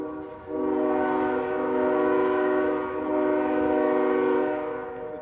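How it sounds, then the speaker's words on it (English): A loud, sustained train horn blast sounds for about five seconds at the 2020 Atkinson Boulevard and bridge opening ceremony, steady and close with a slight swell near the end. "He got a toot from the train."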